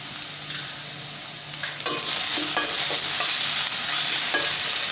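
Drumstick (moringa) leaves wilting in a pan with a little salt, giving a steady close sizzle broken by repeated scraping stirs of a spatula, with no talking.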